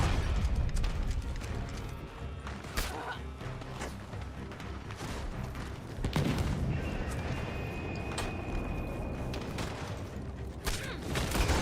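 Shotgun fire in the Western game Red Dead Online, with repeated sharp blasts and mechanical clatter scattered through a dense, loud mix of continuous game noise.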